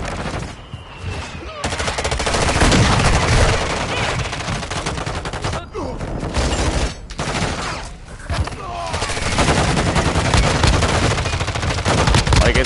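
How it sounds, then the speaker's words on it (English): A Modern Warfare 2 battle plays out with loud, continuous bursts of automatic gunfire and heavy impacts from a mortar strike, dense and close throughout, with a few brief breaks. "Hostile mortar strike incoming."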